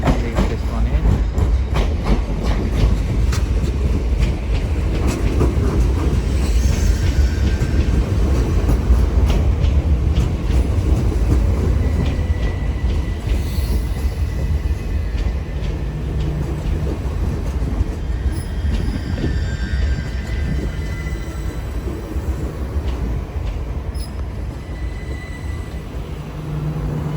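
A c2c class 357 electric train pulls into a London terminus, wheels clattering and rumbling over the track, with screeching squeals and clanks from the rails as it slows, loud and close throughout.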